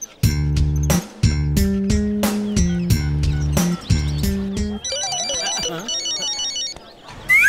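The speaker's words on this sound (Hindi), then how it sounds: "किसका फोन बज रहा है?" A phone ringtone plays loudly, a repeating melodic pattern of tones that shifts into a chirpy electronic jingle.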